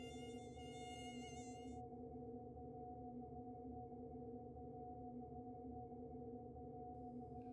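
An Aedes aegypti mosquito hums in a steady, close, high-pitched whine that drones unbroken for several seconds with no voices.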